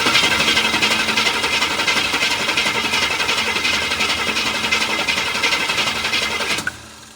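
A 1966 Cadillac Eldorado engine with a freshly rebuilt carburetor cranks on the starter without catching, a fast, steady, loud chugging rhythm that runs for about six and a half seconds and then cuts off abruptly.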